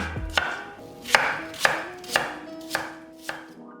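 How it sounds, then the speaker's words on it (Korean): A knife chops an apple into small pieces on a cutting board in six or seven sharp, evenly spaced strokes, close and clear with no talking. "사과 4분의 1개도 작게 썰어 담고,"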